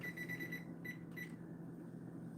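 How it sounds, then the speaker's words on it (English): A kitchen timer gives a few short, quiet electronic beeps as it is set, over a low steady room hum in a home kitchen. "Set my timer so I don't forget about it."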